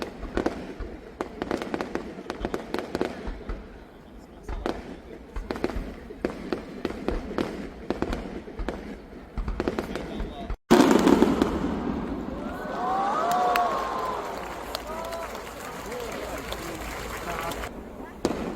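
Crackling fireworks bursts at the Jingu fireworks festival in Tokyo rattle continuously, then a louder booming burst follows amid the murmur and exclamations of a large crowd.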